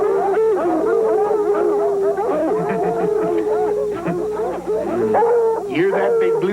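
Redbone and bluetick hounds baying on a fox chase, a steady, warbling, howling chorus running loud and continuous, with yips and bawls layered over it and someone talking along beneath.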